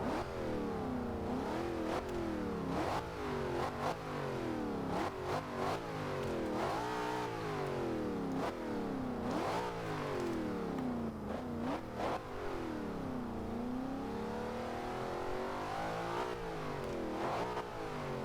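A 2013 Ford Shelby GT500 supercharged engine in the video game Forza Horizon 2 revs repeatedly, rising and falling in pitch in sweeping bursts, loud and continuous with no voices.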